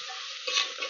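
Chopped onions with turmeric powder fry in a pan for egg biryani, a bright steady sizzle with a brief swell of louder crackling as they are stirred.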